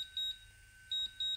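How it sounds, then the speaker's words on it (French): A drone gives three short, high electronic return-to-home beeps, sounding quietly: one, a pause, then two in quick succession. "on entend qu'il y a un petit bip bip"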